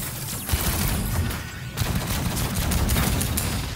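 A weapon fires in the action game Outcast: A New Beginning, rapid repeated shots forming a dense, loud volley with low booms throughout, no speech.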